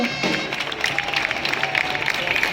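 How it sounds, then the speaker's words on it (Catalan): A crowd applauds at a Festa Major entrance of giants into a square in Barcelona's Casc Antic, steady moderate clapping throughout, fairly distant and continuous. "Un aplaudiment, sisplau."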